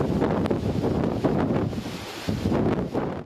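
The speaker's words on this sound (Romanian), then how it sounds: "Vântul a bătut cu rafale de peste 150 de kilometri pe oră." Storm wind of over 150 km/h gusts roughly against the microphone at a port city, where huge waves wash over the breakwaters, making a loud, churning rush that swells and dips throughout.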